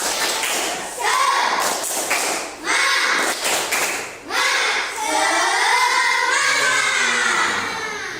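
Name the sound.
children doing a rhythmic spirit clap (tepuk semangat)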